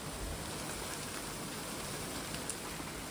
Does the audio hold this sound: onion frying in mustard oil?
no